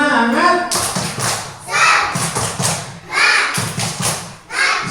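An Indonesian Islamic-education class performs the "tepuk semangat" clapping chant, with an adult leading and children answering: loud, rhythmic groups of claps alternate with chanted voices in a close classroom.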